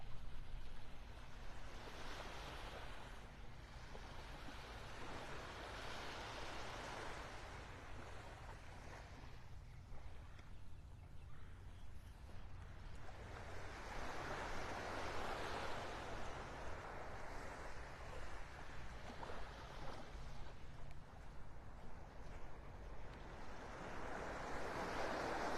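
Ocean surf on Vanderbilt Beach in North Naples, Florida, a steady wash of waves rising and falling through a constant roar, moderately distant, with some wind, no talking.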